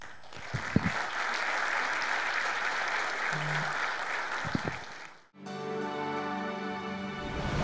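Steady, dense applause from an audience seeing off a speaker and panel at a mining engineers' institute event, continuing for several seconds before cutting abruptly to a different, tonal sound.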